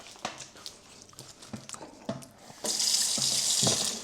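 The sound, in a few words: water bottle filling from tap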